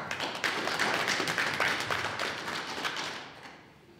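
Applause from an audience at a computer science diploma ceremony for a graduating cohort in Bakel, a dense, steady patter of many hands that holds for about three seconds and then tapers off.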